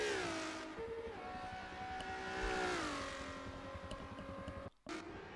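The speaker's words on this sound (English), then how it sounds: "So here we are then, with both of these cars going as quick as they can go!" Race cars in the Forza Motorsport 7 racing game roar at full speed, engines droning steadily with pitch rising and falling through gear changes, loud and continuous before a brief dropout near the end.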